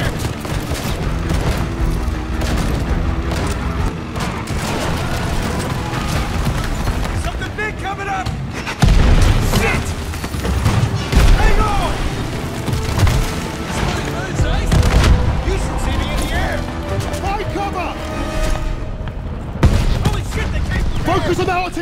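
Battlefield din from Call of Duty Vanguard's Battle of Berlin: continuous rumbling artillery fire and explosions with periodic heavy booms, under a constant wash of combat noise and occasional shouted voices.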